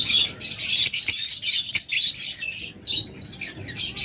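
A pair of black Fischer's opaline lovebirds chirping up close, with dense, shrill overlapping tweets in quick bursts and a few brief gaps, and no voices.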